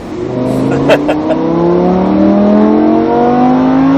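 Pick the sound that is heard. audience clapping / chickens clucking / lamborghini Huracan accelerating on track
lamborghini Huracan accelerating on track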